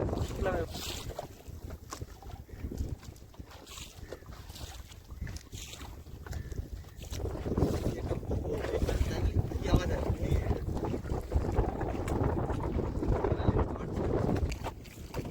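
Wind blows steadily across the open water around a fishing boat in the Sundarbans, a broad rushing hiss that grows fuller and louder halfway through, with voices faintly underneath.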